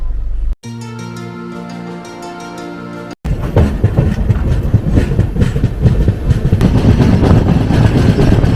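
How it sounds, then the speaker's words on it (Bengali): Brahmaputra Mail train running on the rails near Prayagraj Junction: after a short steady hum and a brief cut, loud rhythmic clickety-clack and rumble of the coach build and continue close by, with no voices. "এনজিপি থেকে 1003 কিলোমিটার পথ অতিক্রম করে আমাদের ট্রেন এসে পৌঁছলো প্রয়াগরাজ জংশনে।"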